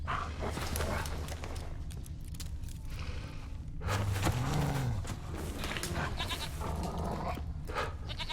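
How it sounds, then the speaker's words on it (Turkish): A goat bleats once in The Witcher 3, a short wavering cry in the middle, heard over loud, busy game ambience and effects. "Aa, keçi."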